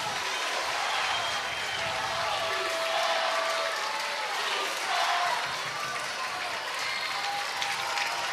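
A sold-out stadium crowd at a Little League World Series game, with fans on their feet cheering for both teams in light drizzle, sends up dense, steady applause and roaring cheers throughout, with a few higher whistles rising above the din.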